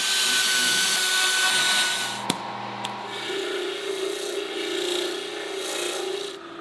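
Drilled holes chased out with a small carbide bit, giving a steady raspy grinding whir that dips after a sharp click, then continues at a lower, wavering pitch.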